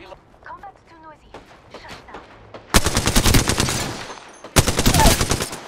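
Gunfire in the video game Apex Legends, rapid automatic bursts in two loud stretches after a short quieter lead-in, with a voice talking briefly at the start.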